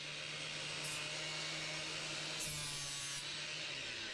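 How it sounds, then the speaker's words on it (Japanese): A cut stainless steel baseboard is filed down in repeated rasping strokes with a steady scraping texture over a constant background hum, close and fairly quiet, with no voices. "じゃあ削っていきますね。"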